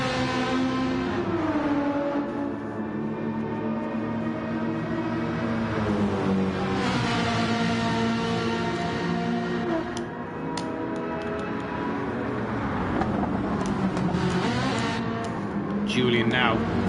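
A Ferrari 458 racing at Circuit Gilles Villeneuve in Gran Turismo 7, its engine note rising and falling in harmonic sweeps as it is pushed hard, running continuously under a commentator's voice.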